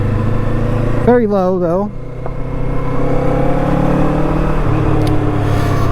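A Kawasaki Eliminator motorcycle with mid controls is ridden at low speed with the rider standing, its engine a steady low rumble under wind, as a voice speaks briefly early on.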